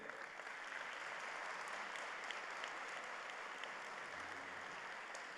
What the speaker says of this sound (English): Please share a round of applause in appreciation of their appearance here today